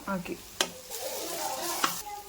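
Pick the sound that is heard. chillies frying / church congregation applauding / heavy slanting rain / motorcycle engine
chillies frying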